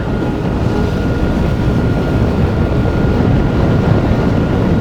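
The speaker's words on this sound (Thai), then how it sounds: "ตอนนี้เราก็กำลังล่องเรือยอทอยู่นะครับผม" Steady broadband rumble of a private yacht cruising off Phuket, with engine drone and hull-on-water wash holding at an even, close level throughout, with no voices.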